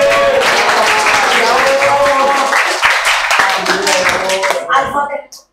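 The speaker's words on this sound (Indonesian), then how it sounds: "Tepuk tangan." Students applaud in a classroom, a dense burst of clapping mixed with voices that stays loud for about five seconds before cutting off abruptly.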